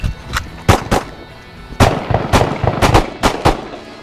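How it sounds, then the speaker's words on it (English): Pistol shots ring out on a shooting range during a drill of two rounds drawn from the holster, with a run of sharp, loud cracks in quick pairs and clusters, some overlapping as if from several shooters. "here we're going to be from the holster, 2 rounds, 4 seconds"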